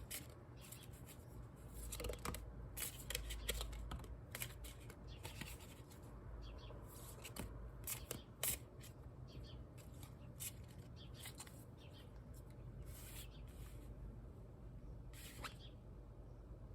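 Tarot cards being shuffled by hand, a soft, close run of rapid crisp riffles and slides with irregular bursts of snapping card edges, quiet throughout and without speech.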